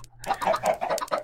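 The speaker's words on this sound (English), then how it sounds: "Oh, shut up, chickens. Noisy." Several chickens cluck in quick, rapid bursts on a farm, close and loud, with no talk over the clucking.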